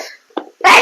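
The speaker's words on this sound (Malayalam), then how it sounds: "ഞാൻ തുമ്മി." A single quick sneeze in a home kitchen while chicken is being cooked, a short sharp burst followed by a louder breathy exhalation.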